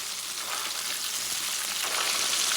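Breaded pork chops fry in hot oil after being flipped, making a continuous, fairly loud, close hiss and sizzle that swells slightly near the end. No one speaks.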